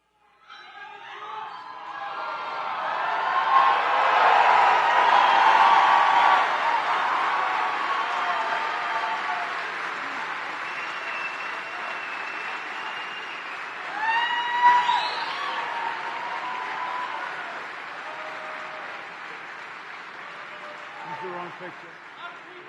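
A large political rally crowd cheers and applauds in a swelling roar that peaks, eases, then surges again with scattered shouts and whistles, sounding like distant playback.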